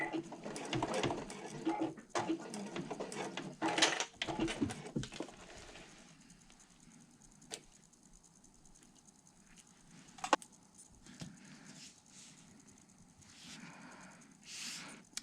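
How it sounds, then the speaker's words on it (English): A sewing machine stitches to the end of a fabric strap and back-stitches a couple of times, giving quiet, rapid runs of stitching in the first few seconds, then near silence with faint handling noises. "I'm just gonna sew right up until the end and then back stitch a couple times"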